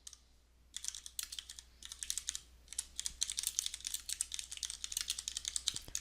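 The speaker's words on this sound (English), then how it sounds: "I'll need to type in the command based off of this information." A command is typed at a computer keyboard, quiet close key clatter in quick bursts with short pauses between them, the typing alone in a still room.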